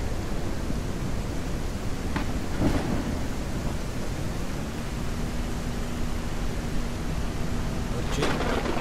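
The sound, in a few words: thunderstorm in the video game Ranch Simulator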